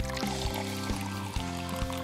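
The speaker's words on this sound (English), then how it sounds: "Then you put in your hot water." Hot water poured into a jug holding jello powder, a steady pouring stream with a rising, gurgling fill tone, close and fairly loud throughout a short span with no talk.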